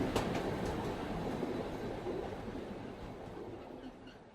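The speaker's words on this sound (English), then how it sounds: "This describes the first 7 minutes of a 7-hour train ride across the country of Norway" Train running through a mountain tunnel in Norway on a long cross-country rail journey, a steady loud rumble and rushing roar of the carriages with faint clatter, continuous throughout.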